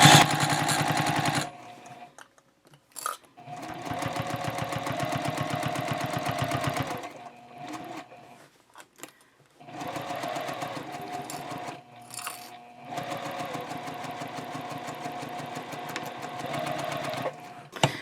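A sewing machine stitches the side seam of a tote bag at a 3.0 stitch length in three long, steady runs of close, rhythmic whirring, separated by short pauses and handling noises.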